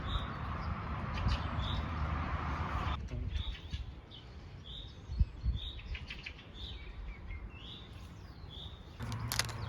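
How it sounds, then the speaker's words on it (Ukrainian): Small birds outdoors chirp and tweet repeatedly in short, high calls at a middle distance over steady broadband background noise, with no talking. "Як приємно слухати співи пташок."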